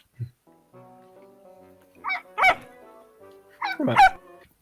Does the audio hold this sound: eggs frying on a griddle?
no